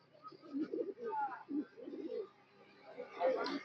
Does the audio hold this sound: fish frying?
no